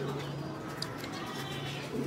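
A male Aplook pigeon cooing at close range, a low, steady, throaty coo running through the moment with no talking.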